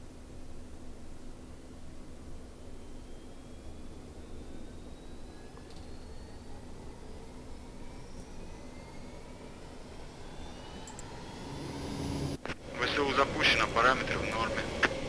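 A simulated Tupolev Tu-134A-3 APU in the FS2004 flight simulator starts up, a steady low whine and hiss that swells into a louder roaring rush near the end.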